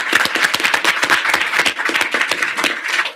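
An audience at a student senate general assembly claps in a dense, fast patter of many hands, close and fairly loud, sustained evenly throughout.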